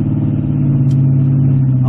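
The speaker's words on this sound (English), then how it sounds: "The burble of that V8." A 1998 TVR Chimaera's 4.0L V8 burbles loudly and close up, a deep, steady idle rumble with a slight uneven throb and no voices.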